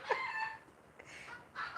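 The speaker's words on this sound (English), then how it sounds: "The chickens are walking by." Chickens cluck and crow nearby as they walk past, a few short bursts with quiet gaps between them, fairly faint against a soft background.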